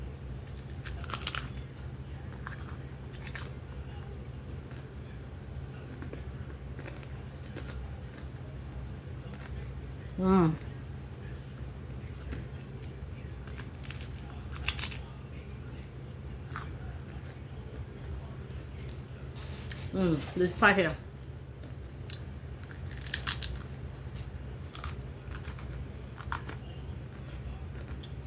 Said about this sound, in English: Because I know people like to hear the crunchiness of it much.